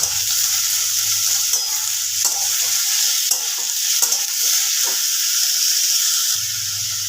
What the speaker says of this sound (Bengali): ঝিঙেটা পেঁয়াজের সাথে খুব ভালোভাবে একটু ভেজে নিতে হবে